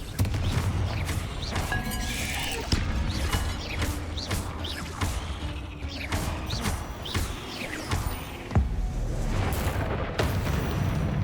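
A Confringo blasting curse explodes in the video game Hogwarts Legacy: loud, dense booming blasts and sharp cracks repeat through the clip over a continuous rumbling bed, with no talk.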